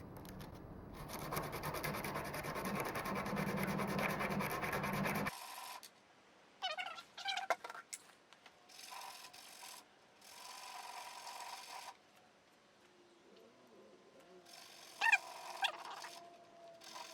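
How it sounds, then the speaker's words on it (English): Rasping, scraping strokes of sanding down an oversized shaft key for a 196cc diesel-powered air compressor build, a steady loud stretch followed by shorter, quieter bursts of rubbing close by. "I think this key is slightly too fat, so I'm gonna sand it down"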